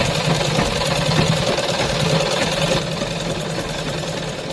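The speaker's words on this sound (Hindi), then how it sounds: "अब इस सिलाई को कंप्लीट कर लेंगे और यहीं से हम वापस घुमा लेंगे दूसरी साइड जाने के लिए मशीन को।" A sewing machine runs steadily while stitching a salwar, its motor giving a continuous mechanical hum and rapid rattling that eases slightly toward the end, with no voices.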